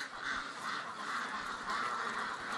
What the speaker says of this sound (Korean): 이것이 내가 키우는 보양식품 오리.